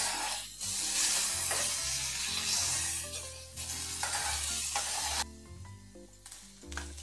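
Potatoes frying with salt in a pan for sabudana khichdi, a loud steady sizzle with intermittent stirring scrapes and a quieter stretch near the end, no talk.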